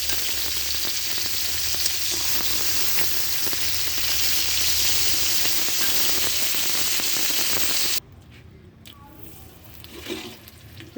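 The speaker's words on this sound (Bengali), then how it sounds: "মাছটা আমি লবণ, হলুদ, সামান্য পরিমাণ শুকনো মরিচের গুঁড়া দিয়ে ভেজে নেব।" Silver carp pieces seasoned with salt, turmeric and dried chili powder fry in hot oil with a dense, steady sizzle for about eight seconds, then the sound drops away to faint kitchen noise.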